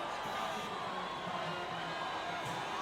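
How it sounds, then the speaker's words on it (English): Game crowd at a Formula 1 Las Vegas Grand Prix roaring for the race winner at the checkered flag, a steady dense wash of cheering and whoops that stays loud throughout with no let-up. "The crowd roar their approval for Yuki Tsunoda."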